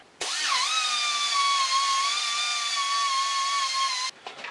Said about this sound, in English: I'm going to take my sander here and I'm going to sand the top of that stud flat